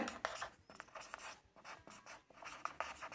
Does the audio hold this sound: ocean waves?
no